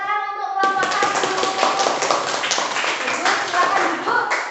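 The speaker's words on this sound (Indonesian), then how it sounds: "beri tepuk tangan untuk kelompok 1" Classroom applause for a student group after their presentation in a chemistry lesson, following a teacher's voice: dense, steady clapping from many hands lasting several seconds.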